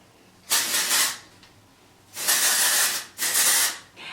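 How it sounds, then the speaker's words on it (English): Texturizing hair spray hisses from an aerosol can in three bursts, one short and two longer, close and loud with quiet pauses between them. "once I'm done putting the texturizing spray in it"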